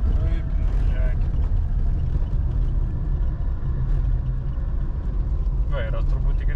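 Car engine rumbling steadily while driving on petrol, a constant low drone with voices talking over it.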